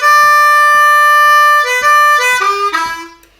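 Blues harmonica in A playing a quick lick: a long, loud held note, then a rapid descending run of shorter notes, close and solo.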